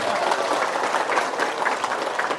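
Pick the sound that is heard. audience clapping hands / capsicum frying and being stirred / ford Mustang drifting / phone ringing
audience clapping hands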